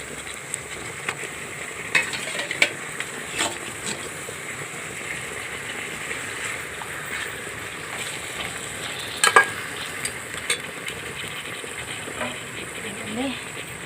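Chicken pieces tossed into deep-fried onions in a pan for a home-style chicken curry, a steady close sizzle with scattered scraping stir clicks throughout.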